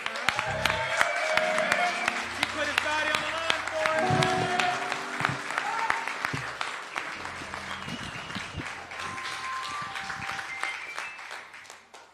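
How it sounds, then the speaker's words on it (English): An audience at the African American Contractors Day event applauds Bill Cartright, a steady wash of clapping that tapers off over about twelve seconds while a voice speaks over it. "Give Bill Cartright a round of applause."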